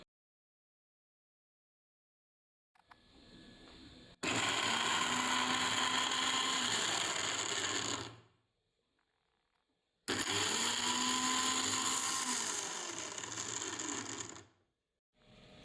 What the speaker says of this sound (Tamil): ஃபஸ்ட்டு பூண்டை கொரன்னு அரைச்சி எடுத்துக்கலாம்.